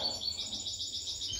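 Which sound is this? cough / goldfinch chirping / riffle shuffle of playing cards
goldfinch chirping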